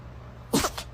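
One quick, close sneeze with a sharp burst and a short tail, set against a quiet background.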